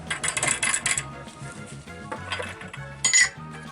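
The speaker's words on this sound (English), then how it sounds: "Put the ring in. Put the lid, give it a stir." Clinks and rattles of a silver ring and metal lid on a glass jar, with stirring knocks; bright metallic clinks near the start and a sharp clatter toward the end, over low rumbling pulses.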